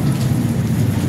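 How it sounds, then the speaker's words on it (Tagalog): Rain falling during flooding, a dense, steady hiss and patter that is continuous and fairly loud, with no voices. "Umuulan."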